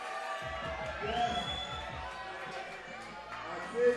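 Crowd cheering and whooping at a bouldering competition final, a steady distant roar of support with rhythmic clapping and shouts under the noise.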